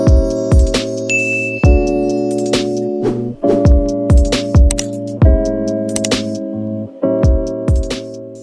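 A bright bell-like ding chime rings repeatedly in a steady pattern, loud and close, each strike decaying with a ringing tail into the next.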